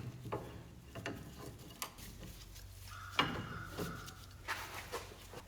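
Quiet metallic clicks and scrapes as a bolt is turned loose from a power steering rod on a C3 Corvette, irregular, close and faint, with a short ringing squeak midway.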